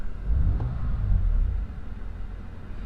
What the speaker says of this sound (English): So let's just give her a couple revs here.